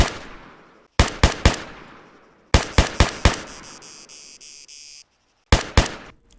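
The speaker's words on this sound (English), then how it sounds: "This is the gunshot." Gunfire from ArmA 3 with the MegaSound mod: sharp, loud shots in rapid bursts of three or four, each ringing out with a decaying tail, separated by brief silences.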